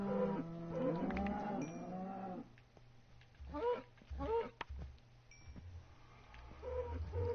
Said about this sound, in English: You stupid cow.